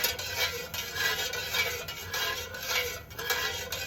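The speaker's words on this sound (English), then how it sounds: "And you just stir for a minute or two." Melted candle wax is stirred in a container with a steady, scraping swish, repeating in even strokes close up with no talking.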